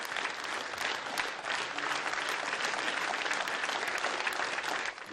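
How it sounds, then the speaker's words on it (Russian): A theatre audience at the Bashkir Drama Theatre applauds a late great actor, Oleg Zakirovich: dense, sustained clapping from a full house, steady and loud throughout with no voices. "Последние аплодисменты, как и положено великому артисту, прозвучали в родном для Олега Закировича Башдрамтеатре"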